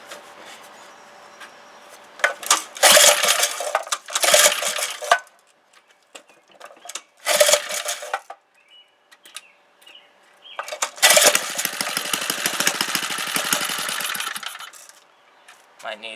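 A small 3hp Briggs engine runs in short bursts, its sharp rattling clatter starting and stopping several times before a longer sustained run near the end, with quiet gaps between.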